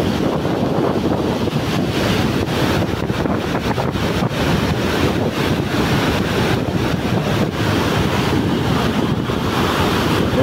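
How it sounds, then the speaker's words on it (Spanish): Heavy rushing water roar at Iguazu Falls, Brazil, with strong wind buffeting the microphone, a loud continuous wash of spray and turbulence filling the whole clip with no voices. "Y acá corre viento, agua, todo bien para salir empapado."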